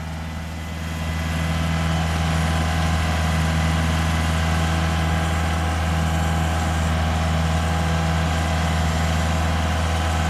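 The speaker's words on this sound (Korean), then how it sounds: "트랙터로 농 갑니다" A tractor engine runs steadily while plowing a flooded rice paddy, a loud continuous low drone with a constant pitch that holds at near distance for the whole stretch, no voices over it.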